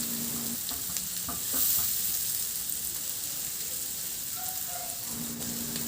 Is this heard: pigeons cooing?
no